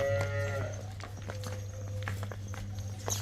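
Jersey cows on a farm stand close by, with a low steady bovine drone, a few moo-like tones and shuffling hoof and footstep sounds scattered throughout.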